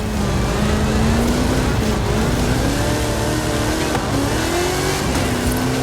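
A Hot Wheels video game truck with a 540 cubic inch Chevrolet engine, PEI XC1 chassis and 66 inch Terra tyres revs loudly and continuously, its engine pitch rising and falling with some tire noise.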